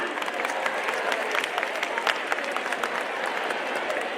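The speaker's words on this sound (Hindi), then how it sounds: "हमारा हो जाए तालियों का, जोरदार तालियां।" Sustained audience applause at a sports event in Delhi where a budget for sports is being announced, dense clapping throughout with crowd noise and some talk mixed in.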